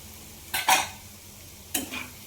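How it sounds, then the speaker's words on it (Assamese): Baby potatoes and soybean chunks are stirred in a frying pan, giving two brief scraping strokes about a second apart over a faint background sizzle. "চয়াবিন আৰু আলু মিহলাই ভাজি লোৱাৰ পিছত পাপৰ মিক্স কৰি দিছোঁ।"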